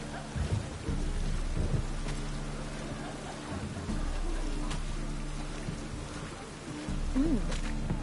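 Steady rain hisses throughout with low rumbling thunder rolling underneath, a continuous stormy wash that swells slightly in places, in the video game The Witcher 3: Wild Hunt.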